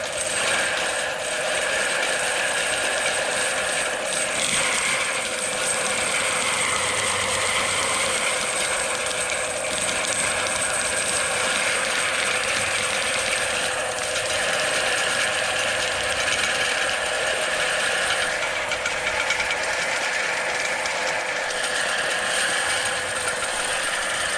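A plumber's drain cable is forced down a sewer pipe into roots, its machine giving a continuous, even mechanical whir and rattle, close and unbroken throughout.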